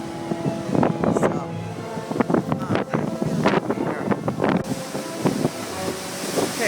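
Storm wind and surf at peak high tide during a January 2014 blizzard at Eden Rock, a steady roar of wind buffeting the microphone with crashing waves, while a person talks over it.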